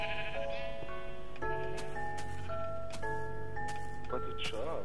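Sheep in the Minecraft video game bleat several times in quick succession, short wavering cries close by, while players talk in German over a light game soundtrack.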